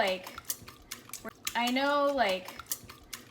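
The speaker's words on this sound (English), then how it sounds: "And we're just gonna whisk it." Eggs whisked in a bowl for scrambled eggs, quick rhythmic clinks of utensil against the bowl alongside a person speaking.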